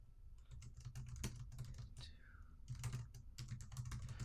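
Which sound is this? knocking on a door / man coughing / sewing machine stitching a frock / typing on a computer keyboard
typing on a computer keyboard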